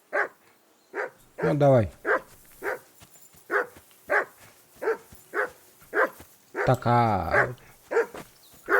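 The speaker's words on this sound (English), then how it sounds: "whistle at that mutt of yours to stop barking" A dog barks repeatedly in steady, loud, close yaps, with a couple of people talking briefly over the barking.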